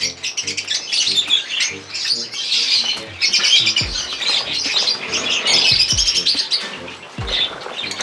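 Pet birds kept outdoors chirp and squawk continuously, a dense close chorus of bright calls with a few low thumps and brief wing flutters.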